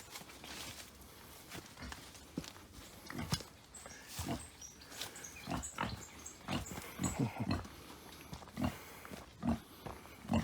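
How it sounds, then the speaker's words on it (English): A sick pig grunting on a farm in Jamaica, short rough grunts and snorts coming in irregular bursts, with some shuffling and footstep-like knocks around it, fairly quiet and close. "Sick pig."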